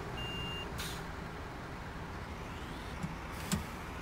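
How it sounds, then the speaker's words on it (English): A garbage truck in the city-service game Cityconomy backs up under a steady low engine rumble, with one high reverse-warning beep near the start and two sharp clunks later, no voices. "let's reverse a little bit"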